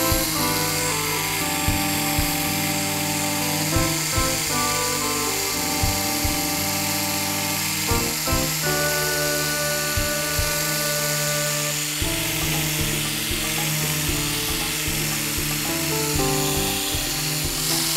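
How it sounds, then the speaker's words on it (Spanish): An electric sander works over natural wood, a loud, sustained buzzing whir with steady pitch and slight shifts in load as it moves along the grain. "Si por algo tengo yo cerca siempre mi lijadora, ya veis qué rapidez"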